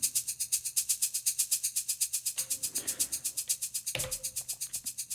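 A techno pattern is played on an Elektron Digitone and Digitakt: a steady four-on-the-floor kick under crisp, evenly spaced hi-hats, with a bass tone and a burst of filtered noise rising in the middle before a new section drops in.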